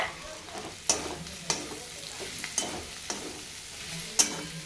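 Potato chutney is sautéed in a pan: a steady, soft frying hiss runs throughout, broken by about half a dozen sharp clinks of a spatula against the pan, heard close and without talk.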